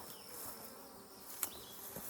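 Honey bees buzz during a hive inspection in a continuous low, faint hum, with a few bees passing close. No one speaks.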